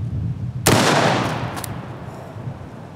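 A 5.56 rifle round is fired into drywall indoors: one sharp, very loud gunshot cracks out, then reverberates and slowly fades.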